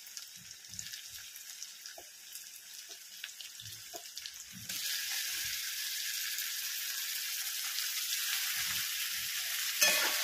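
Chopped tomato added to sautéed onion in a pan: a few soft clicks and taps, then a sudden loud, continuous sizzle that holds steady to the end, with a brief clatter at the close.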